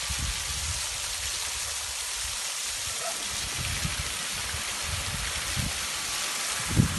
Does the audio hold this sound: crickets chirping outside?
no